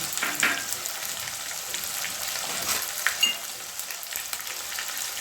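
Tomatoes sizzle and fry in a pan for a cauliflower and potato curry, a steady broad crackle with a few sharper spits and light stirring, close and moderately loud with no talk.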